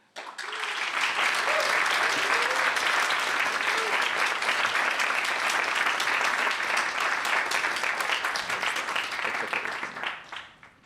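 A conference audience breaks into applause to welcome a speaker, steady dense clapping from a full room lasting about ten seconds before tapering off.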